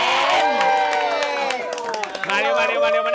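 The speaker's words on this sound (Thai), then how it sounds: "ขอเสียงปรบมือต้อนรับ" A studio audience cheers, whoops and claps to welcome a guest at a live reaction event for the Thai series My Engineer; loud overlapping shouts and voices ride over steady clapping for about three seconds.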